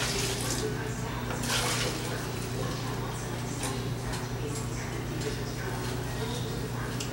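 A pot of boiled water poured out indoors while making homemade laundry soap, a continuous close splashing stream with faint voices in the background.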